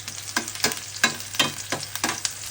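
Pork chop sautéing with onion, calamansi and soy sauce in a hot pan, a steady sizzle broken by sharp repeated scraping stirs about every third of a second, close and loud.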